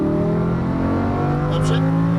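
A Lamborghini Huracan LP610-4 accelerating out of a turn, its engine note pulling steadily and loudly with a brief high whir near the end, no voices over it.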